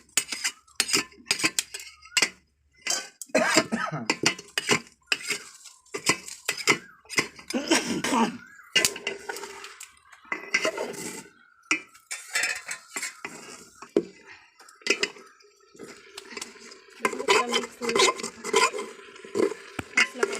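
A metal spoon stirs and mixes chicken curry in a pot cooked on a traditional clay stove, with repeated irregular scraping clinks and knocks against the pot in bursts, close by and without talk.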